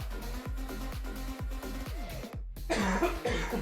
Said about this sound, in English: Sorry, boys, for the coughs.